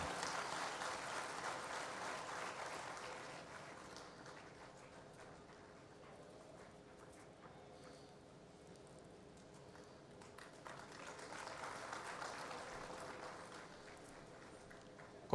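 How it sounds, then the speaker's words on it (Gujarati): Crowd applause welcoming Mayabhai Ahir at a Gujarati stage program, faint and distant, swelling at the start, dipping in the middle and rising again near the end. "જોરદાર તાળીઓથી વધાવી લઈએ એક વખત એમને"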